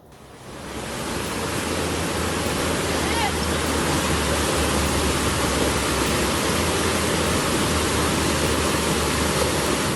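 Roaring flood current of the Kawung River in Pekuncen, Banyumas, Central Java, a dense, loud, unbroken rush of water that rises in the first second and then holds steady throughout.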